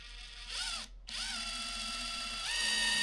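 A cordless power drill drives screws into plywood in a workshop, its motor whining up and down in loud, close bursts, with a short pause before it spins up again and climbs to a higher pitch.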